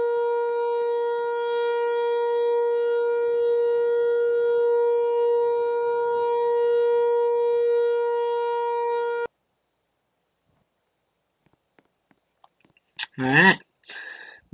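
A civil defense siren in the Roblox game Greenville wails as a steady, loud, sustained tone for about nine seconds, then cuts off into near silence before a few brief, close, rustling sounds.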